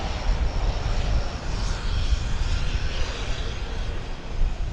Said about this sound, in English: This aircraft, Flight 2195, lifted off from Salt Lake City a couple hours ago. Now it's here.